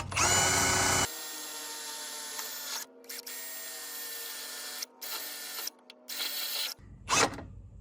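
Power drill driving screws into a Stone Stomper, a whining motor in several bursts of varying length separated by short pauses, close and fairly quiet, with no talking.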